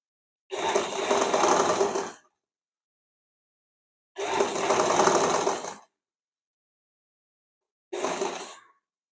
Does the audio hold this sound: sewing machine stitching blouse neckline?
yes